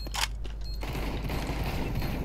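Gunfire rings out in the CS:GO video game, with a sharp burst near the start followed by a faint, continuous rattle of shots under game noise.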